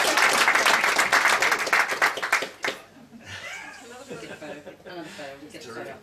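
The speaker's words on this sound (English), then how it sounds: "can we give a round of applause for Maria for her organisation today" Audience applause at a 2009 AGMC forum honours the event organiser, a dense burst of clapping for about two and a half seconds that fades out, followed by talk.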